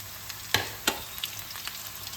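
Green chilies dropped into a pan with ginger-garlic paste for a Bengali fish curry, a quiet sizzle with two sharp spattering bursts near the start and softer crackles after, no talk.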